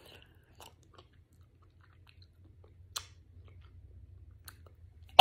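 A person chews vitamin tablets with soft, steady low mastication sounds close to the mic, broken by a few sharper clicks and crunches and a loud snap at the very end; no talking.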